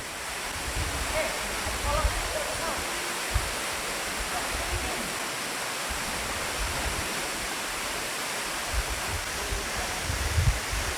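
A waterfall about 100 meters high thunders in a steady, broad wash of falling water, heard from nearby with a few faint bumps and no voices.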